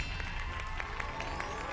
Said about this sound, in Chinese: 让我们欢迎 彭越，掌声欢迎马丁。